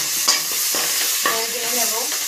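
Tomato pieces frying in hot oil, with a steady close sizzle and a few stirring scrapes through the pan.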